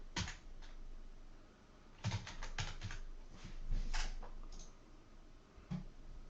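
Quiet computer keyboard typing in short bursts of clicks with pauses between, close and soft, no voices.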